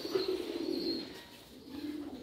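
Indian fantail pigeons on a pigeon farm coo in soft, repeated low calls, close by and moderately quiet over faint background noise.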